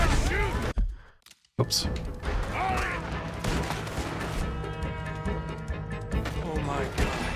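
Gunfire striking cover during a Red Dead Redemption 2 shootout, with sharp cracks and crashing impacts around a brief quiet gap, then ongoing bursts and a ringing tone while a voice speaks briefly.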